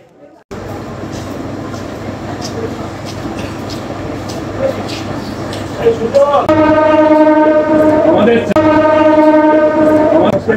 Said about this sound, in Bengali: ট্রেনের বাঁশি দিয়ে দিয়েছে